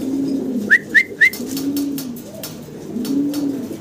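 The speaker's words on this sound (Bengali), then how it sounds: "কবুতরগুলো একটু ভয় পাইতেছে কারণ এক খাঁচাতে দইরা আরেক খাঁচাতে নিয়ে আসতেছি" Fancy pigeons being moved between cages coo in low, rolling repeated calls close by, while a quick series of three brighter chirps or squeaks cuts through early on.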